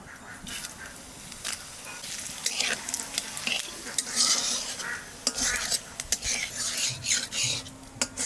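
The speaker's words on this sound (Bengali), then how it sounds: "তেলের পর দিয়ে দেবো শুকনো লঙ্কা তেজপাতা জিরে" Dried chillies, bay leaves and cumin sputter and crackle in hot oil, with a steady frying hiss, a few sharp pops and occasional spoon scrapes against the pan, fairly close.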